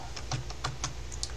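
Someone types a terminal command on a computer keyboard, about nine quick, close key clicks in an uneven burst.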